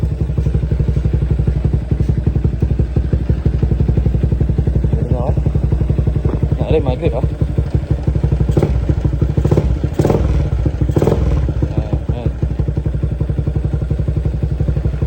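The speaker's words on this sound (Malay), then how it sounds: "Motor masih hidup, Okay, bunyi dia pun smooth ya." A motorcycle engine runs smoothly and steadily up close after repair, a constant chugging idle with occasional clatters and thumps, while a person talks briefly over it.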